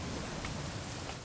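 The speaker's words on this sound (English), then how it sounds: "It's gonna rain the whole weekend, isn't it?" Steady rain falls in the game What Remains of Edith Finch, a soft, even patter that stays faint and continuous throughout the short stretch.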